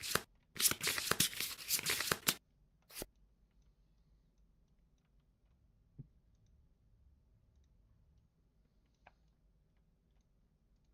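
Cards for the Kingdom Death: Monster board game are shuffled, producing a dense, crisp riffling burst of about two seconds, a single snap shortly after, then near silence.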